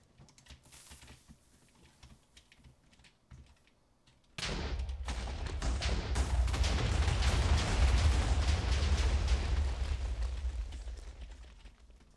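Minecraft explosion in a video game, a sudden loud blast after a few seconds of faint keyboard-like clicks, followed by a long roaring, crackling rumble that slowly fades.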